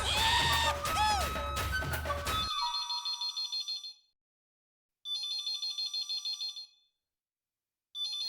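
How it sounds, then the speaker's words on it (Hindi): A telephone ringing loudly in repeated bursts with pauses between, following a brief stretch of mixed noise and clatter at the start. "एक फोन बंद हुआ नहीं और दूसरा शुरू हो गया।"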